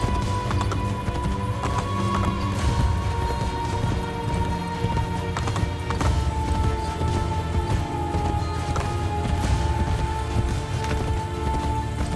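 Rhythmic clip-clop of horse hooves in the video game Assassin's Creed Brotherhood runs steadily throughout, with a high whinny briefly rising above it and a soft patter in the background.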